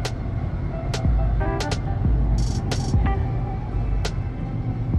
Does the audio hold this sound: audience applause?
no